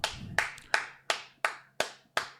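Seven slow, evenly spaced claps from a single pair of hands, each a crisp sharp smack with a short decay, quiet and close in an otherwise still room.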